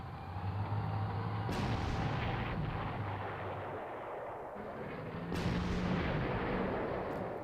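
A Stuka dive bomber attack in the Panzer Corps strategy game: two heavy, loud booming blasts a few seconds apart, each with a sustained rumbling roar and a low droning engine beneath.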